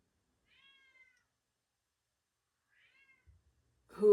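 Indoor house cat meowing, two faint, drawn-out meows a couple of seconds apart, then a brief louder noise right at the end.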